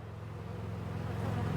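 Honey bees hum inside an open hive, a close, continuous low drone holding steady throughout with no voices.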